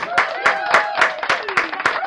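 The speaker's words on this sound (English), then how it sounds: "Round of applause" A few people clap in a regular rhythm, about four claps a second, close and fairly loud, with talk mixed in over the short burst.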